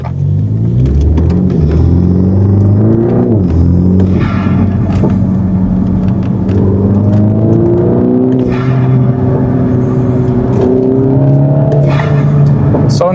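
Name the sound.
MINI F56 with aftermarket intake kit driving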